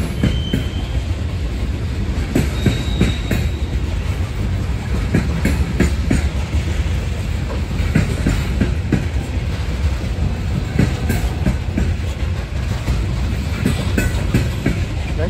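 A long freight train of auto racks and loaded coal cars rolls past steadily, with a continuous rumble and rhythmic wheel clatter throughout, occasional faint squeal, loud and close.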